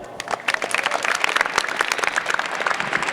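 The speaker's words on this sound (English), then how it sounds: "Well, that was a mediocre round of applause." An audience at an airline symposium applauds in a short burst of dense, overlapping claps, close and fairly loud, with no talking over it.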